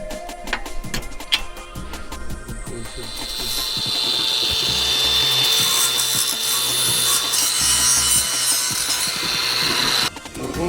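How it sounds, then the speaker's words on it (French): Wooden parts being sanded by hand or with a sander in a workshop, a steady abrasive rubbing that starts with some knocks and then runs loud and continuous for several seconds before stopping. "On ponce les pièces pour"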